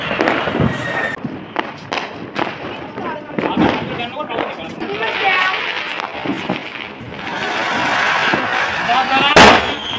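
Firecrackers burst in a residential street during Diwali celebrations, sharp cracks and pops repeating irregularly over a crackling, hissing background, with one loud bang near the end; voices and street noise mix in throughout.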